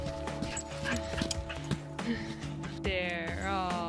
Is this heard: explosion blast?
no